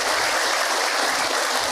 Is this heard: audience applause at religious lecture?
yes